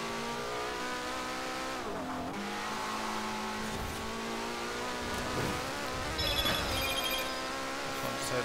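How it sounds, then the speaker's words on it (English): A phone rings with a bright repeating electronic tone that cuts in near the end, over a steady racing-game engine drone from a 2019 Porsche Carrera S in Forza Horizon 4. "Phone decides to go off."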